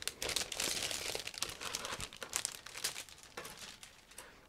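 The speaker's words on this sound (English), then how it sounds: "You can hear that it's also a resealable plastic bag" A resealable plastic bag crinkles and rustles continuously as it is handled and opened, close and fairly quiet, with uneven crackling bursts throughout and no voices.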